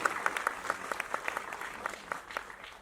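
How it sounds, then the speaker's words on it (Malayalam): An audience bursts into applause at a film trailer launch event for the movie Thalavan, steady clapping from a crowd filling the room without voices on top. "ആ ധൈര്യത്തിന് എനിക്ക് വേണ്ടി നിങ്ങൾ വലിയൊരു കയ്യടി കൊടുക്കണം"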